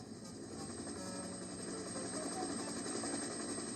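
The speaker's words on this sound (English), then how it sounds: "The noisiest of all was a helicopter." A helicopter drones overhead near an airfield, a steady buzzing engine hum that holds at a moderate, fairly distant level throughout.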